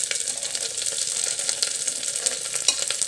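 Chopped onion and green chilli hitting hot oil in a pan where garlic has just browned, giving a loud, steady close sizzle and crackle throughout with no talking.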